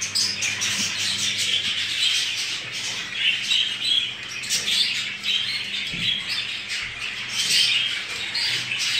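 Jumbo crested budgerigars chatter from a breeding cage, keeping up a steady stream of close squawks, warbles and chirps, with a faint low hum beneath them.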